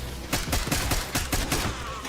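XM4 rifle fire in the zombies mode of Black Ops 6 comes as a fast burst of about eight loud, close shots in quick rhythm, heard alone.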